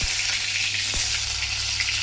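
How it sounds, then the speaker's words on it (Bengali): Potatoes fry in hot oil with a loud, steady close sizzle and a couple of brief stirring knocks; no one speaks. "দেখো তেলটা হয়ে গেছে, এবারে আলুটা ছেড়ে দেবো।"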